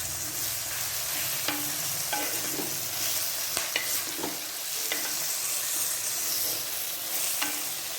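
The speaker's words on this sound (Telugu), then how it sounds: "మన ఆకుకూర వేస్తున్నాను ఇదిగో శనగకూర" Chickpea greens tossed into a hot pan, frying with a constant loud sizzle while a spatula scrapes and knocks against the pan in scattered strokes, close up and without any talking.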